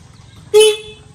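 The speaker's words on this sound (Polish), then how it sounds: "A teraz klakson robimy." A single short car horn honk sounds near and loud, lasting about a quarter second with a fading tail, over faint background noise.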